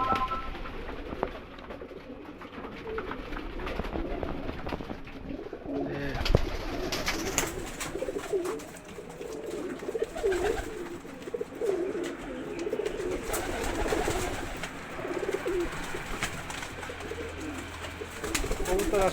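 Pigeons in a small home pigeon farm coo repeatedly, close to the listener, amid constant rustling, wing flutters and general coop noise.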